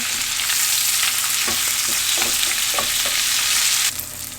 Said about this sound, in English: Now we're gonna toss in our spinach. We just want this to wilt down a little bit.